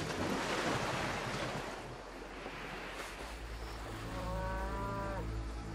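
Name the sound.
cattle mooing, herds of Helios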